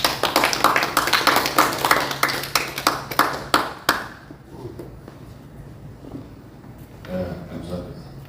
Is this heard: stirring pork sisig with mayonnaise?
no